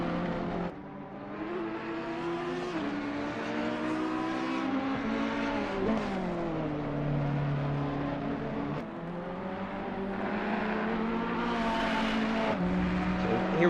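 On-board race car engine from Assetto Corsa Competizione at the Hungaroring in Hungary, droning loud and steady with rising and falling revs through gear changes and corners, plus faint tyre noise, with no talk.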